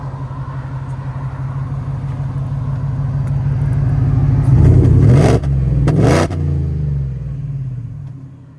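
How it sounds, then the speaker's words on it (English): A supercharged Ford F-150 with a 5.0L V8 and Flowmaster exhaust idles with a steady, deep rumble, swelling into a couple of short throttle blips before settling back to idle. "It's a nice deep idle to it."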